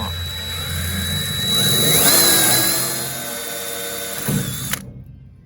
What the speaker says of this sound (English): take a small drill bit, run a little pilot hole in the middle of all these spot welds